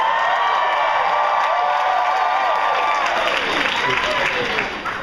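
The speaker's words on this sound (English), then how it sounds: "You guys make some noise, like look like a lively crowd" A lively audience at a SXSW film screening Q&A cheers, whoops and claps at close range, a loud continuous roar of applause and shouts that holds steady and starts to fade in the last half second.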